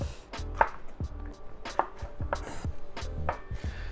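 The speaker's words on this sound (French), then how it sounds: "vous les coupez en deux et vous venez quand même les épépiner" Knife chopping through jalapeño peppers on a board while preparing Peruvian aji verde sauce, with sharp distinct chops in an irregular rhythm, about five or six cuts, close and clear with no talking.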